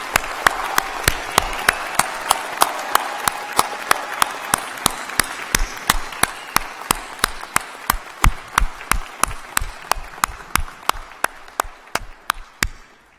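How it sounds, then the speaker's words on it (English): Audience applause at a university convocation ceremony honouring bachelor's degree graduates, a hall full of clapping with sharp regular hand claps standing out close by, sustained for over ten seconds and gradually thinning toward the end. "Let's have a round of applause for all those who received their bachelor's degrees here today."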